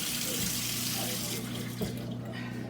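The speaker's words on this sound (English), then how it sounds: "let me just rinse my hands off and rinse out my measuring cup" Kitchen tap running into a sink while hands and a measuring cup are rinsed during cheesecake baking, a steady close splashing rush that eases after about a second and a half.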